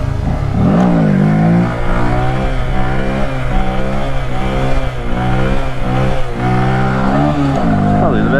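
A small mini bike engine revs hard and steadily during a wheelie on a mountain road, its rising and falling whine loud and continuous, with a rider's voice talking over it.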